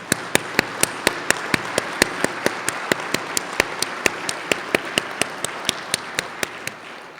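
Audience applause at a Wayne State University event honoring UAW workers, with a loud sharp clap repeating in a fast regular beat over a softer wash of crowd clapping.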